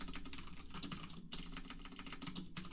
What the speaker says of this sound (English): if someone's watching me type, I type much worse than usual